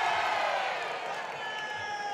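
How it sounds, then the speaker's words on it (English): Crowd at a European senior karate championship in Tampere, male under-75 kg bout, raising a sustained cheer and shouting for a point, a steady roar of many voices throughout. "Crowd wishing a point"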